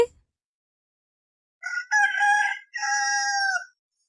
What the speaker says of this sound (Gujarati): જેમ કે કૂકડો બોલે